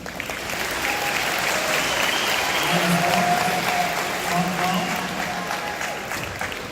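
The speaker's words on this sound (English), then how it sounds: "give them all a big round of applause" Audience at a school signing event applauding students: sustained, even crowd clapping filling the room, with a few voices and cheers mixed in.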